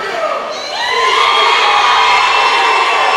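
A wrestling event crowd cheers for Rob Noxious, with a broad, loud roar of shouts and whoops that swells after the first half-second and holds steady and full.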